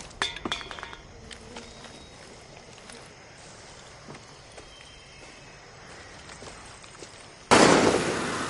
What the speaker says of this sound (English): Shit, who's shooting?